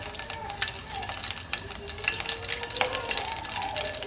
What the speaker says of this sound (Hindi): और कुकिंग ऑयल में डालेंगे हम ½ टीस्पून ज़ीरा।